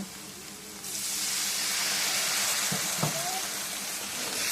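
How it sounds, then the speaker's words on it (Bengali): Water poured into a pan of frying mutton curry masala bursts into loud, steady sizzling and hissing that continues to the end. "হালকা একটু পানি দিব"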